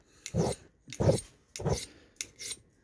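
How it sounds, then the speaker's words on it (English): A file rasps across a cutthroat razor blade to sharpen it, four distinct close strokes in an even rhythm with short gaps between, no talk over them. "I'll take the file and lay it on both the flat surfaces"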